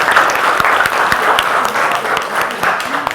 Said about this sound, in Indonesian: Tepuk tangan untuk Bu Melani